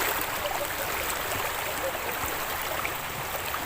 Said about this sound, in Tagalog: malakas ang current sa tubig